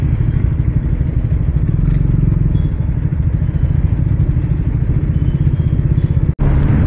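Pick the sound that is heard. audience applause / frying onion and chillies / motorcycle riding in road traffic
motorcycle riding in road traffic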